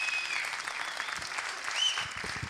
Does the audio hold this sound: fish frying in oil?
no